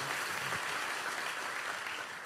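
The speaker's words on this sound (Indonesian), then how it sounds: "Kasih tepuk tangan bagi Tuhan Yesus" A church congregation claps together in steady, dense applause at a Sunday service, the sound even and sustained throughout the short stretch with no voices over it.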